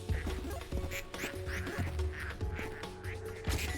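A flock of ducks in the factory game Project PITT quacks repeatedly in short overlapping calls, a busy irregular chatter at moderate volume over a faint mechanical hum.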